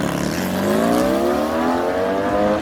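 Drag race car launches off the line with the throttle feathered, its engine climbing steadily in pitch, loud and close, with a brief tire squeal and no voices.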